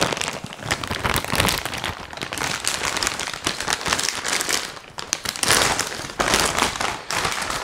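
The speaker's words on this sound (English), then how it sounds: "Let me tear this open real quick" Plastic and cardboard packaging for an Acuity Instruments short shifter being torn open and crumpled, a continuous loud crinkling and ripping close by with bursts of rustle, no talking.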